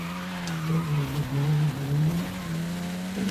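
Car in Forza Horizon 5 skidding on the e-brake in second gear, a steady engine drone wavering under sustained tire squeal, close and loud with no talking.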